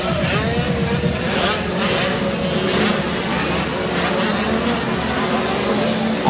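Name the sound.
motocross bikes racing past, Kawasaki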